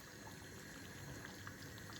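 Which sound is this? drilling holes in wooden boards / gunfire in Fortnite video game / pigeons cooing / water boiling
water boiling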